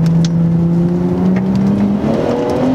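Turbocharged Infiniti Q60 with downpipes and a tune, making about 400 wheel horsepower, accelerating hard at full boost; a loud, continuous engine roar rising steadily in pitch from up close, with no talk.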